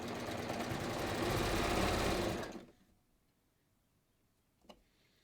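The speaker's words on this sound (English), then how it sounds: "I'm just going to start serging." A serger sewing machine runs fast and steady while stitching and trimming layers of fabric for a kangaroo pocket on a top, a loud continuous whir that stops abruptly, followed by a brief faint click.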